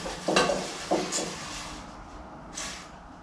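Food is stirred in a pan during a casual chat at home: a couple of quick scraping strokes and a light clink over a soft background sizzle, fairly quiet and close.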